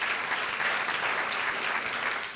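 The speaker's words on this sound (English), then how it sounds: "Round of applause for Michael," Brief audience applause at an annual meeting for Senator Michael Frerichs, a steady burst of many hands clapping with no voices.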